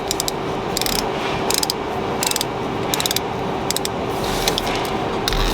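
A Ford F150 AC compressor pulley with a failed clutch is turned by hand, giving close repeated bursts of ratcheting, clicking mechanical noise over a steady low hum.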